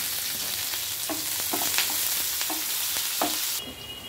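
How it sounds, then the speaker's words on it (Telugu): Green chillies fry in hot oil with browned garlic, a constant bright sizzle broken by scraping stirs and spatula taps, close and fairly quiet, fading slightly at the end. "మనకు పచ్చిమిర్చి కూడా వేగిపోయిందండి।"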